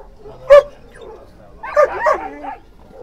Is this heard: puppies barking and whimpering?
yes